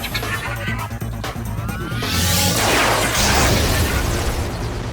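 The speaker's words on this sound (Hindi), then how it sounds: "त्रिशूल का धमाका।" A low musical tone gives way to a cartoon-style trident blast, a loud whooshing explosion that swells and keeps roaring.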